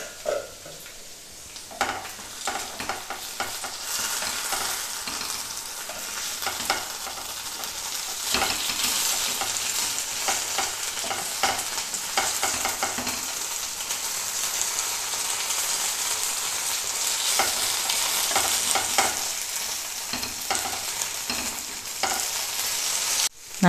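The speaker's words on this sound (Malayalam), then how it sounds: "ഇപ്പം നമ്മുടെ ഉരുളക്കിഴങ്ങ് സവാള ഫ്രൈ റെഡിയായി." Potato and onion frying in coconut oil in a pan, a steady broadband sizzle and crackle running throughout with occasional stirring scrapes, close and fairly loud with no talk.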